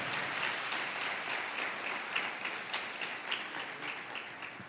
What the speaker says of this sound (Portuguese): Você pode mais uma vez dar um forte aplauso por essa palavra?